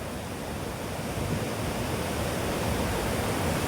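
A stream rushes in a dense, steady broadband wash of flowing water, close and loud, with no break or voices.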